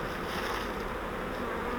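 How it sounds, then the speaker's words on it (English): Honey bees in a swarm trap give a steady, close, dense buzzing drone with no breaks and no talk. "Not as many bees in here as I thought there might be."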